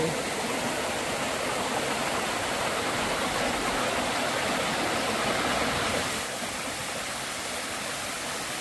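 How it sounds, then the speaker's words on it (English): Fitzgerald Falls on the Appalachian Trail gives a constant, dense roar of falling water, loud and close, with no voices over it. "We haven't had a waterfall in so long. I believe this is called Fitzgerald's Falls."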